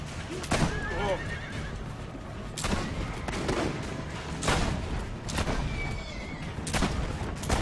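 Horses neigh and whinny repeatedly in loud bursts, mixed with gunfire and hoofbeats in a busy, action-filled scene from the video game Assassin's Creed Brotherhood.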